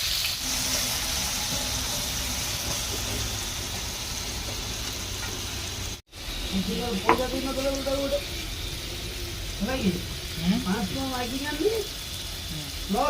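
Onions frying in a pan give a steady, close sizzling hiss for the first half, then a voice speaks over the continuing sizzle.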